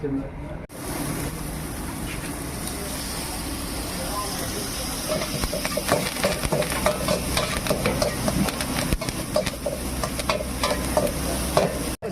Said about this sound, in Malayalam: ചേച്ചി ബീഫ് ഫ്രൈ ചെയ്തുകൊണ്ടിരിക്കും